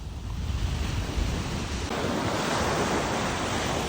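Surf washes in continuously on Al Musanah beach, with gusty wind buffeting the microphone. The roar is steady and mid-level, with no voices.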